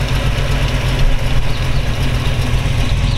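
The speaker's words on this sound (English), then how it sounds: "Go back and let you hear it idle." A 1932 all-steel Ford Tudor resto rod with a 350 V8 idles close by, a loud, steady low rumble with a slightly lumpy, pulsing beat and no talking.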